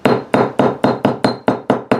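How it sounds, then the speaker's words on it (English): A hammer strikes a flattened notebook coil on a steel block in eight sharp, evenly spaced metallic blows, close and loud with short ringing decays between hits. "I am going to pull my steel block on camera, and I'm going to take my hammer"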